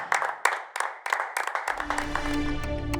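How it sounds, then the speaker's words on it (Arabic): Several sharp handclaps burst out in a quick, uneven run during a comedy quiz game show, and partway through a sustained low droning tone joins them. "صفقوا لي كل شيء صفق لي كل شيء"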